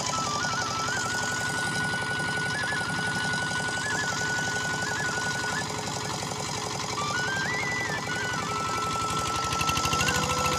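A tractor engine runs steadily at a rice harvest, a continuous droning rumble with a whining tone that shifts slightly in pitch, heard fairly faintly with no voices over it.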